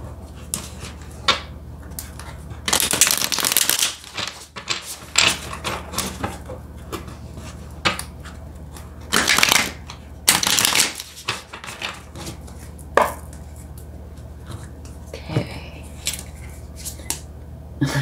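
Tarot cards are shuffled close by, giving bursts of riffling and flicking papery rustle that come and go irregularly between quieter handling noises, with no talking.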